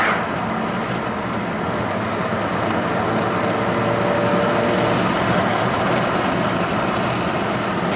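A 2019 Honda Accord mid-size sedan with a small turbo engine and a turbo underboost fault accelerating smoothly, a steady broadband engine and road drone heard from inside the cabin with no talking.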